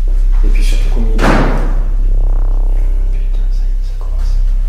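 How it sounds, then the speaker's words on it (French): A building door bangs shut with a heavy thud amid loud wind noise and rumble, followed by a lingering hollow reverberation. "Peut-être une porte qui s'est fermée."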